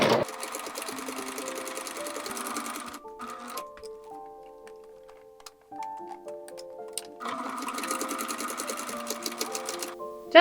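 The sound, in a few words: sewing machine stitching doll overall straps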